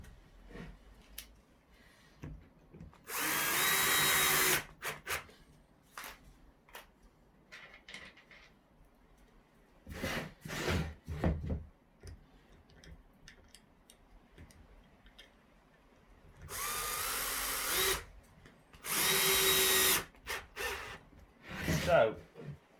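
Drill boring a concealed hinge hole in a door with a jig: two loud bursts of drilling of a second or two each, separated by quieter handling noises and a person speaking.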